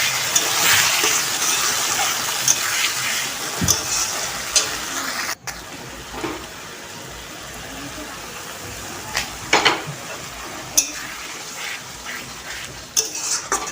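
Spices and water go into a hot frying pan while jackfruit and prawns cook, a steady sizzle with occasional stirring clinks and scrapes of a utensil, close by, with a person talking over it.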